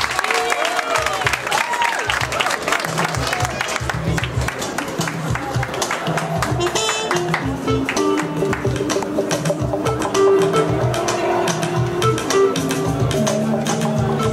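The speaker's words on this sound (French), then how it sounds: "Mesdames et messieurs, on l'applaudit comme il se doit." An audience at the Malijama awards ceremony in Mali applauds and cheers loudly, with dense clapping blended with music and crowd noise for an extended stretch.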